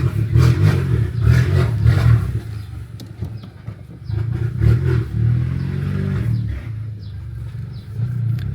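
A straight-piped MK7 VW GTI roars loudly, its exhaust booming and crackling as it drives past close by, fading slightly mid-pass before surging again.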